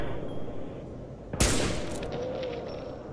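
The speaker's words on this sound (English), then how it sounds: "Wait, this ain't my shotgun. This is my hunting rifle." A single hunting rifle shot from Fallout 4's Far Harbor, one sharp loud crack over a quiet ambient background, followed by a fading tail.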